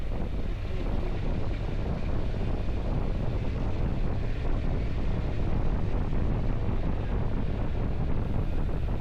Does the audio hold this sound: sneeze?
no